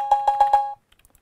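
A cowbell sound in a music production beat plays four quick, bright metallic hits in an even rhythm, then stops, leaving faint ticks.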